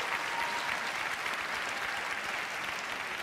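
Audience applause fills a BAFTA Games Awards ceremony hall, a steady dense wash of clapping from a large crowd that holds even throughout.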